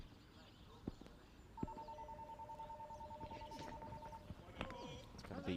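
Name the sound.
telephone ringing in the background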